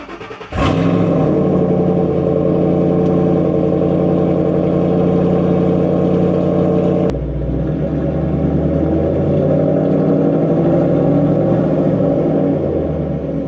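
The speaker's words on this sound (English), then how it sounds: "we're just going to go ahead and start this thing up." A Ford Mustang Shelby GT500 (S197) V8 cranks and fires with a sharp burst, then settles into a loud, steady, close idle that drops slightly lower partway through and keeps rumbling evenly.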